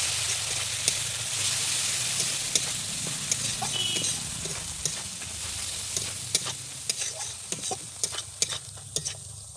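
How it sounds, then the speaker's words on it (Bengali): Ground cumin paste sizzling and frying in a pan for a pumpkin and fish-head curry, a continuous close hiss broken by sharp clacks of a spatula stirring against the pan. "এবার দিয়ে দিচ্ছি জিরে বাটা দিয়ে আমি ভালোভাবে কষিয়ে নিচ্ছি"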